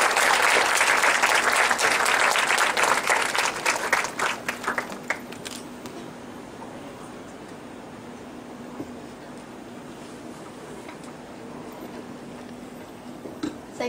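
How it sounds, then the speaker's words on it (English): A standing audience at an opening ceremony claps loudly in a dense burst that thins out after a few seconds, leaving a quieter room hum with a faint steady tone and scattered stray claps. "applause."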